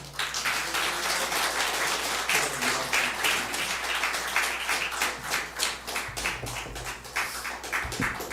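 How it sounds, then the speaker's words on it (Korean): A church congregation at a Christmas service claps to welcome the pastor, a brisk, fairly close patter of hands that grows more rhythmic toward the end with a few low thuds. "오늘 나오실 때 우리 큰 박수로 목사님 환영하겠습니다."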